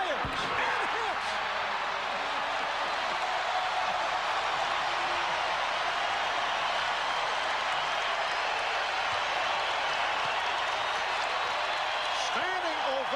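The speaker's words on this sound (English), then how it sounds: "Standing ovation from this capacity crowd here at the Garden" A capacity arena crowd at Madison Square Garden roars and applauds in a sustained standing ovation during a 1996 Knicks–Bulls basketball game, loud and unbroken, with a broadcaster talking over it.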